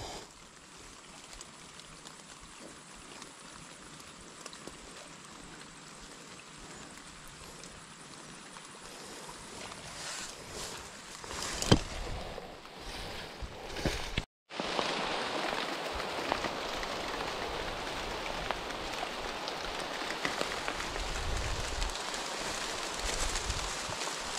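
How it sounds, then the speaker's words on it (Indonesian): Steady rain falling outdoors, a dense even hiss of drops that thickens and grows louder partway through, with a brief dropout near the middle. "hari hujan."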